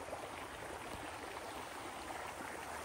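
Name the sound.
forest stream flowing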